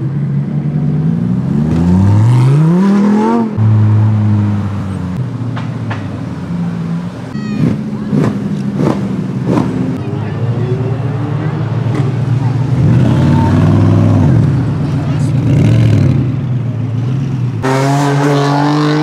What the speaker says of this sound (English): Look at that fucking exhaust.